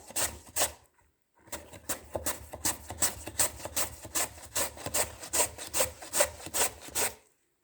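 Rhythmic rasping strokes of zucchini being rubbed down a grater, about two strokes per second after a brief pause, close and crisp.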